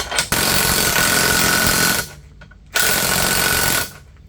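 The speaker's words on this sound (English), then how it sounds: "my drill's running, the thing's running out of battery" A cordless power drill whirs loudly and steadily while working on the front wheel bearing of a VW Polo Mk2 (86C), with two long runs separated by a short pause, heard close and without speech.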